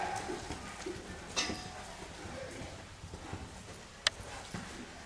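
Rhythmic hoofbeats of a horse loping, soft repeated thuds at a steady three-beat pace with faint background noise.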